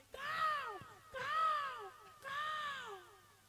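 A crow gives three drawn-out, falling caws in a steady sequence. Each call lasts about a second with short gaps between them, and the calls sound moderately faint against a quiet background.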